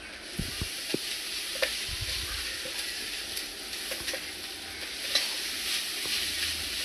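Grated beetroot and sprouted green gram stir-fry in a hot pan, a continuous soft sizzle broken by light scraping and tapping as the mixture is tossed and mixed.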